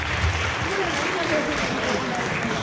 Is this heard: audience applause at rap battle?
yes